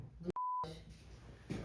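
A single short electronic phone beep, a clean steady tone lasting about a quarter second, cuts in over quiet background talk.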